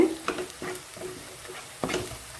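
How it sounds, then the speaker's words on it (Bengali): Spice paste with Kashmiri chilli powder sautés in oil for a Bengali prawn malai curry, a soft sizzle broken by several scraping stirs of a spoon against the pan. "কাশ্মীরি লঙ্কার গুঁড়ো দিয়ে মশলাটা ভালো করে কষিয়ে নিতে হবে।"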